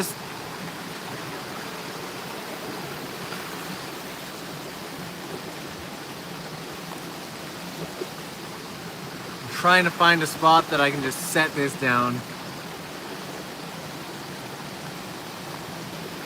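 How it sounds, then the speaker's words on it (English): Mountain stream water flowing in a Japanese valley, a constant broadband rushing wash that runs throughout, briefly overlaid by someone talking close by. "Is the water in the background too noisy?"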